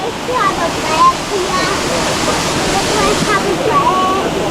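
A waterfall on the Ingleton waterfalls trail roars in a loud, constant rush close by, with children and adults chattering faintly over the falling water.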